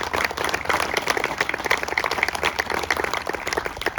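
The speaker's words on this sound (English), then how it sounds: "give Governor Beebe another round of applause for making this possible" Steady audience applause fills a dedication ceremony for Beebe Hall at the Arkansas Sheriffs' Youth Ranches, many hands clapping densely and evenly throughout, loud and close with a busy crowd texture.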